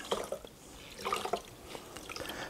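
Wet rag squeezed over a half-full ice cream pail of water, releasing a few soft trickles and drips that splash back into the container, close and quiet.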